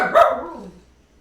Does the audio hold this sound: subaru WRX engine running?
no